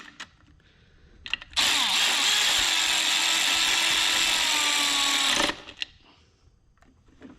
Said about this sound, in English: So let's bolt them down. Switch my ratchet.